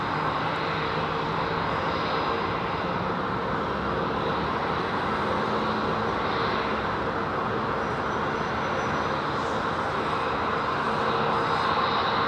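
Jet airliners depart London Heathrow Airport in a continuous loud engine roar that holds steady throughout with no pauses.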